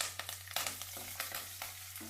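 Fennel seeds and spices splutter in hot ghee, giving faint, sparse pops and crackles over a low steady hum.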